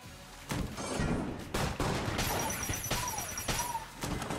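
Repeated heavy booming blasts from cannon fire in the game Enter the Gungeon, modded, several sharp explosions in quick succession with whooshing projectiles between them.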